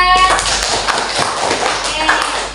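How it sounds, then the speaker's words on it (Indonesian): A classroom group claps for another group of students, a short burst of close, fairly loud hand clapping with uneven taps and some shuffling, fading slightly toward the end amid light room noise. "Beri tepuk tangan untuk kelompok 2."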